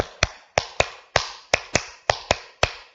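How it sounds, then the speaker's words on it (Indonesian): A high school class claps the 'tepuk harmoni' pattern together: nine crisp, loud, unison hand claps in short groups with small gaps between them, and no talking. "Bapak mau membuat tepuk harmoni. Tepuk harmoni terdiri dari 3 tepuk."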